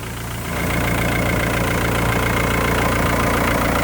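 A loud, steady original, never-rebuilt tractor engine idles close by, a continuous low rumble with a regular knocking pulse that swells slightly after the first half second.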